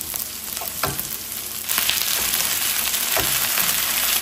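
Chicken pieces frying in a pan for adobong manok sa gata: loud, continuous sizzling and crackling close up, with a few clatters as the pieces are turned, swelling louder partway through.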